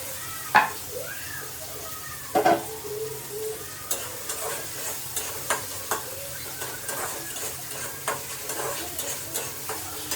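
Tomatoes tossed into sizzling onions in a pan, stirred with steady scraping and clinks over a constant frying hiss, a few sharper knocks of the spoon against the pan standing out.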